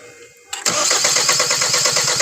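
A 2019 Hyundai Tucson with a D4HA engine, faulty and refusing to start, cranks on its starter in a steady, rapid rhythmic churn that begins abruptly and continues loudly without catching.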